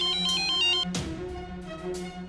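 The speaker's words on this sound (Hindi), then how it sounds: "ये देखो फिर बज रहा है तुम्हारे सामने भी।" A phone rings with a bright electronic ringtone, a repeating melodic pattern that keeps going with a short break around the middle, fairly loud and close with no talking.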